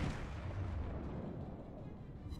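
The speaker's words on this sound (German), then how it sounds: "Schüsse fliegen rein." Heavy booming artillery salvo from the battleship Warspite's naval guns in World of Warships, a deep rolling blast that decays over a couple of seconds, loud and close.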